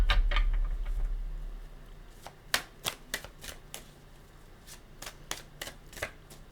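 Tarot cards being shuffled, a run of crisp riffling slaps and flicks in quick irregular bursts, close and fairly soft, with no voices over them.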